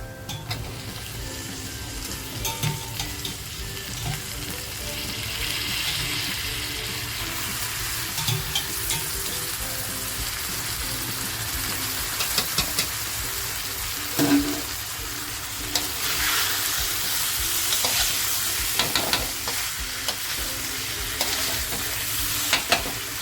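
Mutton pieces dropped into well-fried masala sizzle steadily in a pan for a traditional village-style black mutton curry, with stirring scrapes and occasional splashes over a continuous frying hiss.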